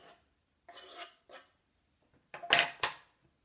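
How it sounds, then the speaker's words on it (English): Chopped tomato tumbles into a bowl of pico de gallo, making a few soft scraping and clattering bursts that finish with two louder knocks against the bowl. "So now we just add the tomato."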